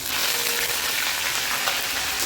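Chana dal, cinnamon, cloves and curry leaves fry in hot oil for a tempering: a dense, loud, unbroken hiss and crackle held close throughout, with no pauses or voices.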